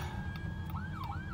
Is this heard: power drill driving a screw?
no